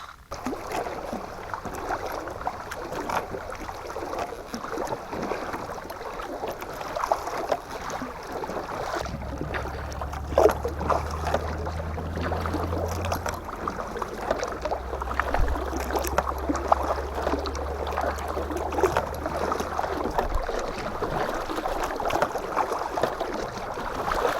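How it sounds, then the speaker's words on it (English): Canoe paddling across a lake toward an island on a hot day with a headwind: steady wind and water wash, soft irregular paddle strokes and splashes throughout, with a low droning hum entering midway. "let's start paddling over to the island and going over to the other shore"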